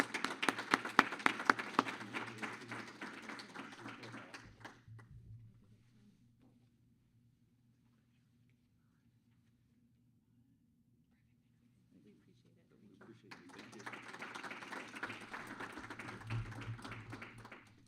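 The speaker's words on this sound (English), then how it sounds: "Please join me in a round of applause for both Hal and his mom" An audience at a credit union's annual members meeting breaks into dense, steady applause that fades to near silence, then swells again into a second round of clapping.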